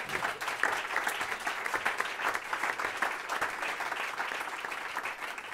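An audience at a jazz concert gives steady, sustained applause, a dense wash of clapping that stays fairly loud and even from start to finish.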